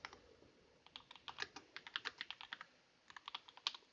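Quick, light keystrokes on a computer keyboard patter in an irregular run of clicks, pausing briefly before a final few taps, close and clear with no voices.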